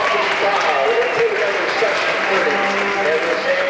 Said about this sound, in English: It's a round of applause from the fans here at Wing Stadium.